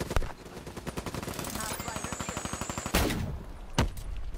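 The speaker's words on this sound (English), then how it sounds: "How is he shooting me through the wall?" Rapid automatic gunfire rattles in a steady close burst in Call of Duty: Black Ops multiplayer, followed by a couple of louder single blasts, with faint game sounds around it.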